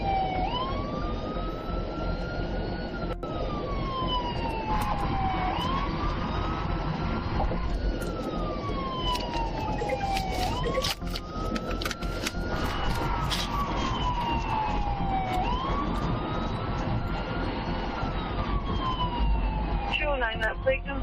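A police siren wails continuously, rising and falling in a steady cycle, loud and close, with engine rumble beneath it.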